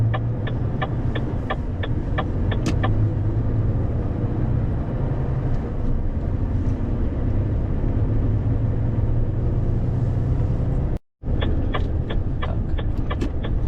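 A truck driving along a road, with a loud, steady engine rumble and road noise close by throughout, a series of brief ticking clicks near the start and end, and a short dropout just before the end.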